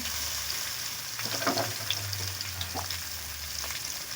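Snails and ridge gourd fry with salt, turmeric and potatoes in a pan, a close, steady sizzle with a few scraping stirs and faint watery bubbling, no voices.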